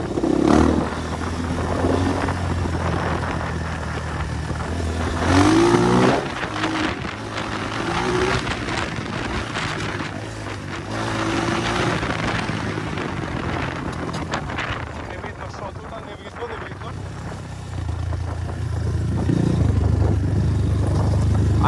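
A BSE 250 J3D Chinese motorcycle ridden carefully at low speed, its engine a steady close drone with wind buffeting the microphone and a few rises in revs.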